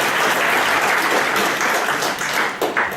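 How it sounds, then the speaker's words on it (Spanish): An audience breaks into sustained applause for a speaker at an academic law lecture, with dense, even clapping that thins slightly toward the end. "por favor un fuerte aplauso para el doctor Martín Hurtado Reyes"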